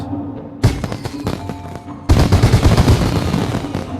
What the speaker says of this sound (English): Oh, fireworks.